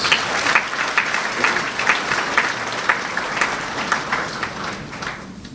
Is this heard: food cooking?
no